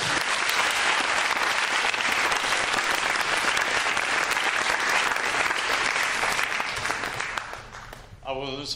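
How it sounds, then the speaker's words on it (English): An audience claps hands together after a sing-along of "If You're Happy and You Know It" at a lecture, a long, steady roar of applause that tapers off near the end before a voice begins speaking. "If you're happy and you know it, clap your hands"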